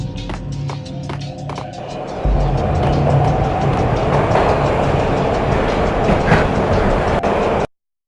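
Train carriage rattling during a night ride in the video game Max Payne: a steady, loud rumble with rhythmic clicking and clacking that grows heavier and fuller after a couple of seconds, with no voices.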